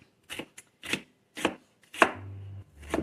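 An onion being chopped on a board with a knife, five or six crisp separate chops in an uneven rhythm, close and clear, with a short low hum between the later strokes.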